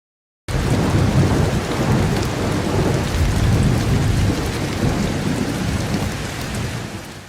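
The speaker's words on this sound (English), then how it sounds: "Do I seriously have to go shelter because of this severe thunderstorm?" Severe thunderstorm with heavy rain pouring steadily and thunder rumbling beneath it, loud and continuous after a brief silent start, with no voices.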